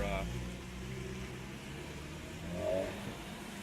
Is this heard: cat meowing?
no